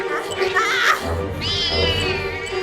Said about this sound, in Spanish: cuando Cindy se pelea con el gato y lo quiere apuñalar con una botella cortada.